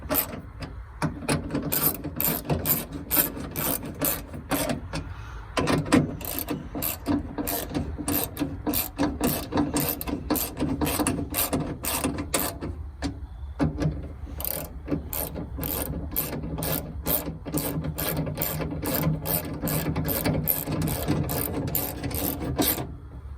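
Ratchet wrench tightening bolts on a window regulator inside the door of a 2003-2010 Honda Element, giving a long run of rapid, close clicking strokes in bursts with brief pauses, loud and steady throughout with no talk.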